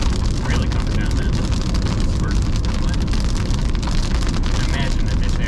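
Rain drums steadily on a moving car near St. Ignace and the Mackinac Bridge, a dense, unbroken roar of road and rain noise that stays loud throughout.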